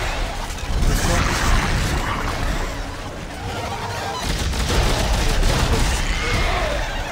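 Exploder enemies bursting in Dead Space 3 co-op, loud crashing blasts and gunfire mixed with game noise, heaviest at the start and again toward the end.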